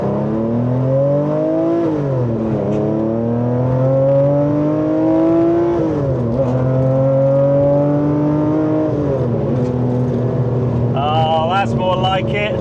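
A Singer-restored classic Porsche accelerates hard through several gear changes, the engine note climbing and dropping close by, loud and continuous, with a few sharp whines near the end.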